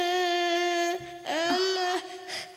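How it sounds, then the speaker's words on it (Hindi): A baby wails in a horror thriller scene, a sustained high-pitched cry with a strong tonal, harmonic quality broken into a few long sobbing bursts, close and prominent. "तुम्हें किसी बच्चे के रोने की आवाज सुनाई दे रही"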